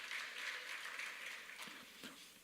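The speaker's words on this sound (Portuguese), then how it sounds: "Não, gente, vamos aplaudir." A church congregation applauds with faint, diffuse clapping that fades out, followed by a sudden sharp knock at the very end.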